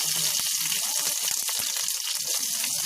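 Mustard seeds, dried red chili and bay leaf sizzling in hot oil in a pan, a continuous close crackle with sharp pops and spits throughout.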